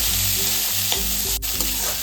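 Leftover cooked rice and peanuts being sautéed in a pan, a loud continuous sizzle with repeated scraping strokes of a spatula stirring through, close and with no voices.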